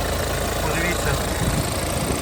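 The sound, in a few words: car engine idling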